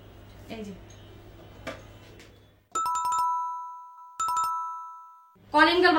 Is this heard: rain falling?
no